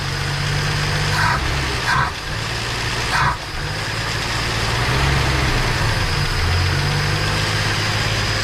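A Plymouth Duster engine that tends to stall under throttle idles steadily with a low, rumbling hum that dips briefly a couple of times, close and continuous without any talking.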